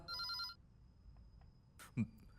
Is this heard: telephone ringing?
yes